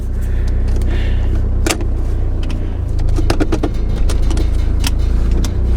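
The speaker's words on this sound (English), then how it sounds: "Let's just have a little ride down the road." A car driving along a road at night with LED spotlights and a light bar fitted, its engine rumbling low and steady from inside, with a few light rattles and clicks.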